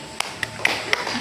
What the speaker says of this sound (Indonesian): tepuk tangan buat Andini